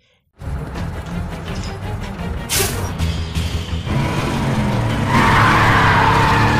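A car deliberately crashed and sent skidding in a movie action scene; after a sudden start comes a sustained loud roar of engine and tire noise with impact bursts, rising into screeching skids toward the end.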